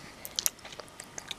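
A six-month-old baby chewing and mouthing something, giving soft, close wet clicks and small crunchy bites in an irregular run of brief taps, with no talking.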